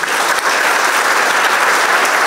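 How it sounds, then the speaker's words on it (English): Loud, sustained applause fills the room at the close of a conference, dense and continuous clapping from a large audience heard close. "Give a round of applause."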